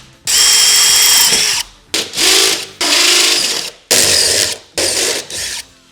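A power drill boring through the inner sheet metal on the fixed side of a Ford Transit cargo van: several loud, close whining bursts of a few seconds each, separated by brief stops.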